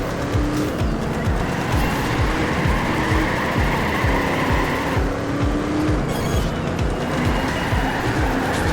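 A Chevy races in the video game Trackmania Turbo, its engine droning steadily for the whole stretch with a repeating rhythmic pulse and faint tire noise, loud and continuous.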